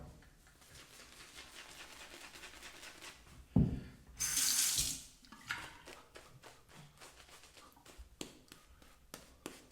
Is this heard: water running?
yes